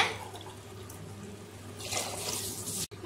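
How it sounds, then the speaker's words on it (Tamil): Water runs steadily from a tap or jug into a cooking pot for tomato biryani made with kodo millet rice, a continuous moderate splashing flow that brightens and grows louder near the end before cutting off abruptly. "இப்போ தண்ணி சேர்த்திக்கோங்க"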